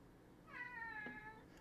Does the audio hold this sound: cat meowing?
yes